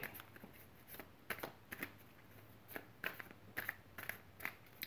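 Crisp riffling and snapping bursts come in quick clusters, like a deck of playing cards being shuffled close by, with short pauses between runs.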